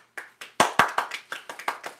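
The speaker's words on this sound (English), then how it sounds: "I'll golf clap that." Light, polite golf clapping from a single person, about a dozen soft hand claps in a steady unhurried rhythm, close and alone without talk.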